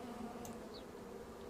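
Honey bees buzz continuously around a hive while drawing out comb, a steady, close, low droning hum with no voices.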